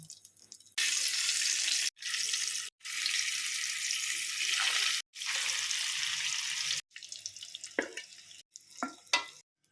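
Boiled eggs fry in hot turmeric-tinged oil, a loud steady sizzle in several long bursts separated by brief pauses, ending with a few softer clinks and crackles.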